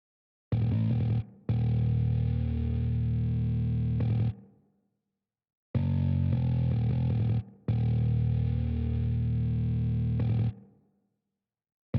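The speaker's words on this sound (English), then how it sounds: "a much dirtier bass sound, and that sounds something like this." Dirty, distorted bass tone run through Bias effects plays two sustained phrases, each a held, gritty note with a brief break, separated by a pause. It sounds loud and close, with no talking.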